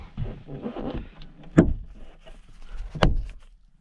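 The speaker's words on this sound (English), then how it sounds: "Wow, it latches." A 3D printed plastic part for a Porsche 944 latches shut with a sharp click, followed by a second distinct click, after some fumbling handling noises and no speech.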